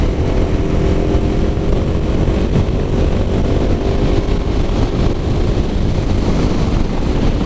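Riding a Kawasaki KLX300sm, the steady engine drone blends into loud, continuous wind rush across the microphone, a dense roar without letup throughout.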